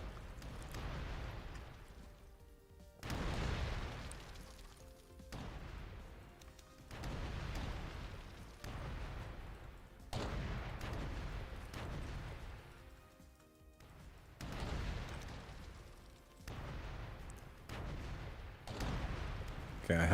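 Bomb blasts from the Bomberman video game go off as a run of loud, booming bursts spaced a few seconds apart, each sustained and broadband, with little pause between them.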